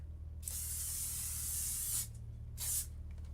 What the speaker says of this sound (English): I'm going to use my handy dandy spray glue here.